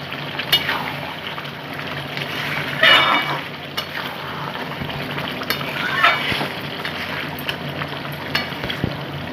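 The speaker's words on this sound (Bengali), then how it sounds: "পেঁয়াজ সব আমি একে একে দিয়ে দিচ্ছি" Onions sizzle and crackle steadily in hot oil in a pan while chicken curry is cooked, a soft continuous fry with occasional pops and stirring scrapes, fairly close and moderate in level.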